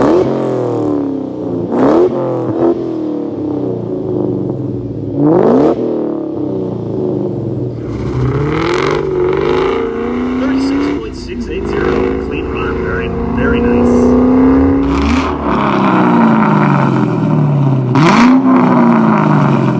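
A 1999–2004 Ford Mustang with an aftermarket Borla Stinger exhaust revs repeatedly, its loud throaty engine note rising and falling in sweeping bursts and rumbling steadily at idle between pulls, close to the listener.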